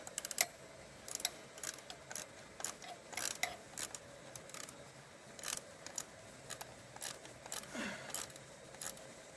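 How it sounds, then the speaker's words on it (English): A spanner turns a bolt on the fan of a Kubota BX HST tractor, producing faint, scattered metallic clicks and taps at an irregular pace against a quiet background. "line it up onto the thread, come in with the spanner"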